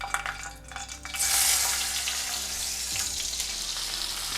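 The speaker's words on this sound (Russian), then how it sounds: "На обжарку помидор уходит примерно 2-3 минуты" Ripe tomato halves frying cut side up in a pan: a soft background murmur gives way to a loud, broad, steady sizzle that continues to the end, with no voices.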